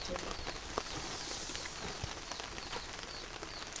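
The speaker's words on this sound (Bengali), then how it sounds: "বৃষ্টি নেমে গেছে" Rain falls steadily outdoors with a soft, even patter and scattered drops hitting surfaces, fairly faint and continuous, with no talking.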